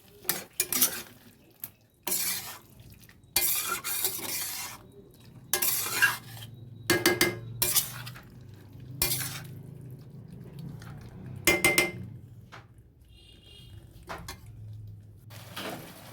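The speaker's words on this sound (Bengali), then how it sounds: "কষা হয়ে গেছে, এবার জল দিয়ে দিচ্ছি।" Water is poured into a pot of cooked chicken curry, with a wooden spoon clanking and scraping against the pot in irregular bursts over a low background hiss.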